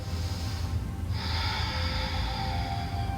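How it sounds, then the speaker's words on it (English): Loud, close breathing during a stretching exercise, a long audible exhale through the nose and mouth followed by a hissing breath that carries on. "And just breathing with sound."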